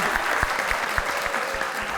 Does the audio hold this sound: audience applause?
yes